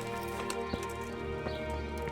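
A horse's hooves clop steadily in the video game Kingdom Come Deliverance, a few soft, evenly spaced footfalls beneath a constant humming game soundscape.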